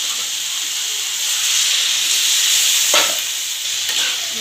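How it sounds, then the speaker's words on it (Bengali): Steady sizzling hiss of cabbage cooking in a hot pan as water is poured in, with a couple of brief splashy bursts near the end; no voices. "বাঁধাকপিটা সিদ্ধ হওয়ার জন্য এর মধ্যে দিয়ে দেবো জল"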